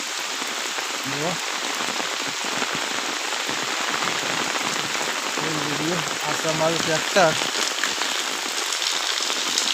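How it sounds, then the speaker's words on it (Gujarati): Heavy rain pours steadily outdoors near a parked tractor, a dense continuous wash of drops on surfaces throughout, with someone talking over it. "વરસાદ જબરજસ્ત પડે છે, જુઓ પાણી કેટલું હેડે છે"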